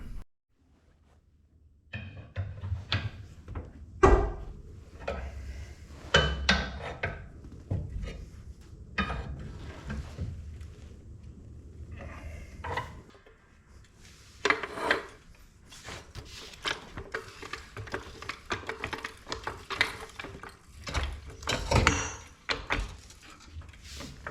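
Hammer blows straightening a bent steel tie-down on a cheap diesel roller: irregular clanks and knocks at varying loudness over about twenty-four seconds, some in quick bursts, close and without talk.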